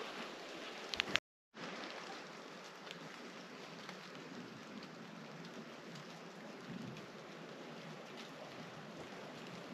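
Rain falls steadily on Pennsylvania pines, a soft continuous patter with occasional closer drips. Brief clicks come early on, followed by a short gap of silence before the rain resumes.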